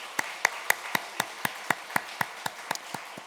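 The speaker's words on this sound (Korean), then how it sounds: "우리 크게 박수 한번 해주시면 감사하겠습니다." A church congregation claps at a retirement ceremony, with distinct, evenly spaced claps in a steady rhythm, close and fairly crisp, with little other sound.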